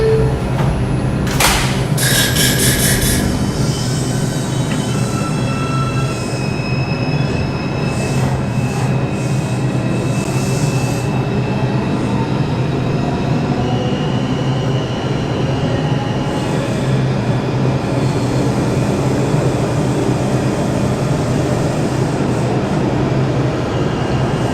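An MTA New York City Transit R142 subway train on the 5 line, Manhattan-bound on the IRT from Flatbush Avenue, runs loud and steady with a continuous rumble and rail roar, a brief high hiss near the start and faint squeals throughout.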